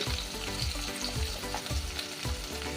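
Diced potato and papaya fry in a pan for a chana dal curry, a dense, loud, continuous sizzle with regular thumping pulses of stirring about every half second, close up and without voices.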